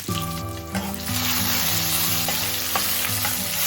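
Fenugreek seeds, garlic, green chilli and mint leaves fry in hot oil with a loud, steady sizzle that swells after ingredients drop in, while a faint tonal hum runs underneath; no speech.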